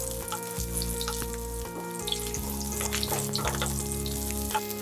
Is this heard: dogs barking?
no